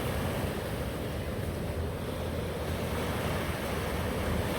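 Ocean waves roll onto a beach where sea turtles rest, a steady broadband roar of surf mixed with wind buffeting the microphone, constant and fairly loud throughout.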